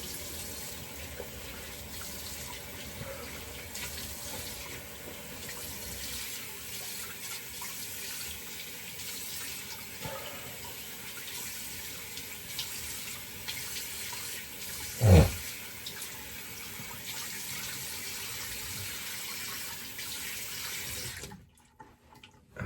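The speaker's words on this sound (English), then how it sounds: "Let me just rinse." A tap runs steadily to rinse a razor after a shave, a continuous hiss of water into a sink for about twenty seconds with one brief clunk near the middle, then it is shut off.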